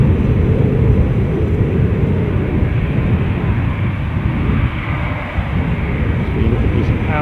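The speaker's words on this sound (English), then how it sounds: "Outgoing British Airways flight, which I'm going to guess is going to be Heathrow bound" A British Airways jet airliner departing Edinburgh airport, a steady broad engine roar that holds loud and constant throughout, with wind buffeting the microphone.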